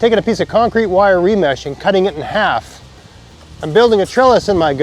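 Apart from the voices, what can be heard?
No everyday noises stand out.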